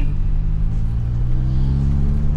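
A Daihatsu Charade Turbo engine gets a light blip of throttle while driving through city traffic, a steady low rumble rising slightly in pitch, heard from inside the small car with no one speaking.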